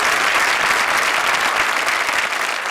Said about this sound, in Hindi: जोरदार तालियां हमारे सारे कंटेस्टेंट्स के लिए.